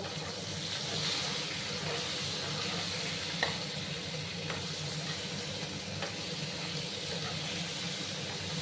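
Fish fried in hot oil with a little salt for a Bengali fish curry, giving a steady close sizzle and hiss throughout with a few faint stirring clicks, no voices.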